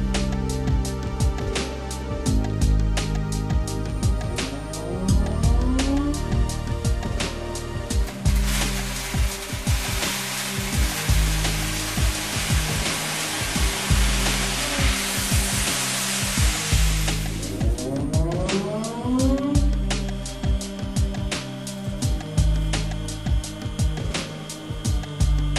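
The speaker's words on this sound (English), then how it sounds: "The hydraulic loader fills the next batch of parts and media into the work bowl." A Walther Trowal centrifugal disc finishing machine runs as its hydraulic loader fills parts and media into the work bowl, giving a steady industrial hum with a loud hissing, rushing burst through the middle, then settling back to mechanical whirring.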